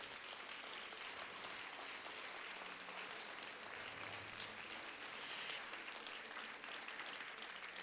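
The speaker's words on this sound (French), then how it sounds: "Vous pouvez applaudir." Sustained applause from an audience at a school recognition gala honouring a student, a fairly faint, even wash of clapping that continues without pause.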